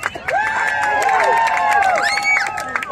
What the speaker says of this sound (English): Give Jack a cheer.